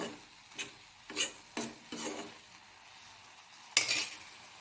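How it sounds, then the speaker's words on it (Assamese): Taro and tomato being stirred in a pan for an Assamese kosu pitika, several separate scraping, rasping strokes of the spoon through the soft mixture with quiet pauses between, close and fairly soft, ending on one sharper scrape. "এতিয়া ভালদৰে অকণমান লৰাই দিছোঁ।"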